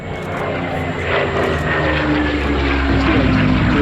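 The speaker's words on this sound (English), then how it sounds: "Spitfire M3200, the only flying aircraft in the Imperial War Museum's collection." A Spitfire at the Duxford Battle of Britain air show drones steadily overhead, its propeller engine loud and continuous with a slight swell throughout.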